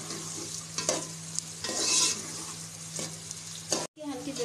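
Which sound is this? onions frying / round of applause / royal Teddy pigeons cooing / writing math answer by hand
onions frying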